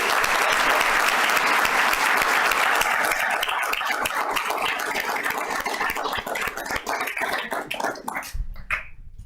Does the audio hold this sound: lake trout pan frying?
no